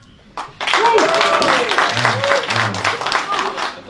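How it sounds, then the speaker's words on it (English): An audience at a stand-up comedy show breaks into loud, dense clapping that holds steady for several seconds, with voices and cheers mixed in. "Round of applause, anyone like porn?"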